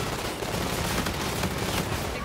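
Sustained automatic gunfire in the video game Call of Duty: Infinite Warfare, a dense, loud, continuous rattle of rapid shots filling the whole stretch with no pauses.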